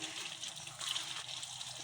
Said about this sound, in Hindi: छानी में डाल के ना इसे अच्छी तरह से धो लेना